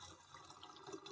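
Homemade stout beer poured through a strainer, a faint, steady trickle and splash of liquid falling into a container, brief and close with no voices.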